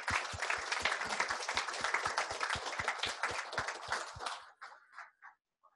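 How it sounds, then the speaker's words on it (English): A crowd applauds at a design residency final presentation in Toronto, with brisk, rhythmic clapping for about four seconds before it thins to a few scattered claps and falls silent. "So I think you deserve another round of applause."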